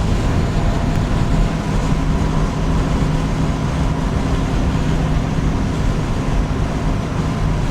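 Turbocharged car engine running at 10 pounds of boost in a 2024 turbo convertible, a steady, loud, broadband roar with constant rumble throughout, no talking.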